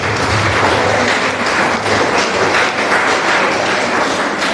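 Audience at a Tamil government-job guidance event bursting into applause, a dense, loud wash of clapping hands sustained evenly throughout.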